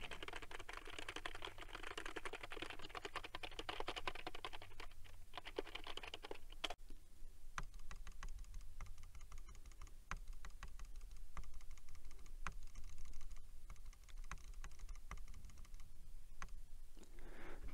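Computer keyboard keys and mouse buttons clicked repeatedly near an omnidirectional wireless headset microphone on a Corsair Virtuoso RGB Wireless XT, a steady stream of quick typing taps with occasional louder single clicks.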